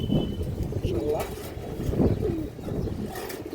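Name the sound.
pigeons cooing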